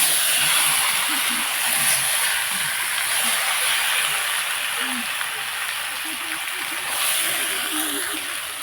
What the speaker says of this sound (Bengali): মাখিয়ে রাখা মাছের মাথাগুলো ভালো করে এইভাবে নেড়ে চেড়ে একটু ভেজে নেব